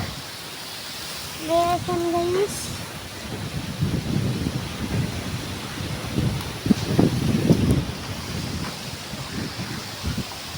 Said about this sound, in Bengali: এখানে আমাদের ঝড় হচ্ছে